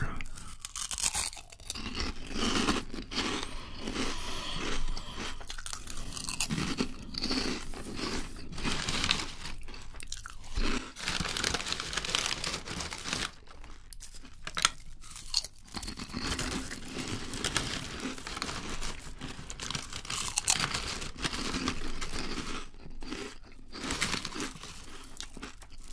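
Close-miked ASMR eating of prawn crackers, with crisp crunching, crinkling and chewing bursts repeating irregularly over a long stretch, no talk.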